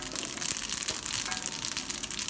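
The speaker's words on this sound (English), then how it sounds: "let's stir the cabbage." Cabbage is stirred and tossed in a hot iron kadai, a close, continuous crackling sizzle with scraping and rustling from the spatula.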